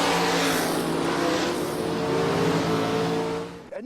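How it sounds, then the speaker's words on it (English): A drag racing car at the Centre Pod drag racing strip gives a loud, close engine roar that holds steady for several seconds and then cuts off abruptly. "The wind farm site is right next to the world-famous Centre Pod drag racing strip."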